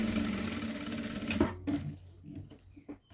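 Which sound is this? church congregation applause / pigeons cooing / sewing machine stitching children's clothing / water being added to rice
sewing machine stitching children's clothing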